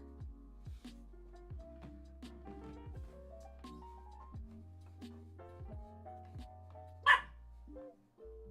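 A single sharp dog bark rings out once over a steady, tonal musical background, fairly close and loud against the quieter bed.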